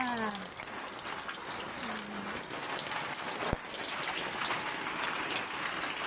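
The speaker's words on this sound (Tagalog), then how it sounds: "Ngayon ay maulan talaga." Steady rain pours down, a dense continuous hiss of drops hitting surfaces, with a faint voice briefly audible near the start.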